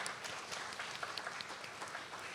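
A conference audience welcoming a speaker applauds steadily, a soft, continuous patter of many hands clapping at a moderate distance.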